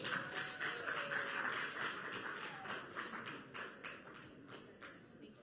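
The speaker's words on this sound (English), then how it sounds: "Thank you for clapping. That was really sweet." Audience applause backstage at the 2025 Golden Globes after the Hacks team, winners of Best TV Series, Musical or Comedy, are welcomed to the stage; dense steady clapping from a crowd that slowly thins and fades over several seconds.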